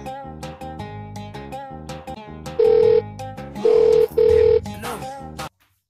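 A phone call home rings out: a melodic ringback tune plays, then three bursts of buzzing ring tone arrive close and loud before the line falls silent.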